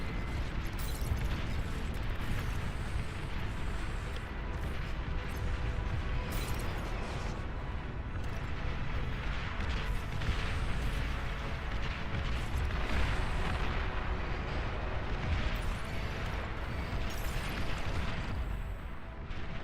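Rockets pounding a battlefield in the Beyond All Reason real-time strategy game, a dense, continuous roar of overlapping booms and explosions with mechanical clatter, loud and unbroken throughout.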